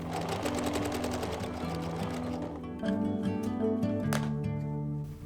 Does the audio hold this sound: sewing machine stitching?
yes